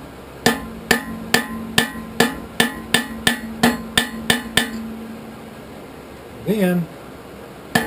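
Hammer forging hot metal into a swingletree hook on an anvil: a steady run of about fourteen sharp, ringing blows in even rhythm, close and loud, then a pause before someone speaks briefly.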